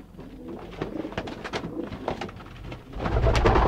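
Pigeons coo softly in repeated low throaty calls, several birds overlapping, with a louder rustling burst near the end.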